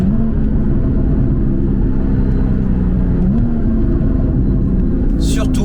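Porsche fitted with a SCART sports exhaust, driving with a loud, steady low engine rumble and a slight pitch rise partway through, a brief higher whoosh near the end, close and continuous.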